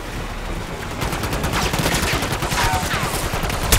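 Rapid automatic gunfire from a Call of Duty Black Ops 6 Zombies match on the Terminus map rattles in continuous bursts, loud and dense, with sharp impacts near the end.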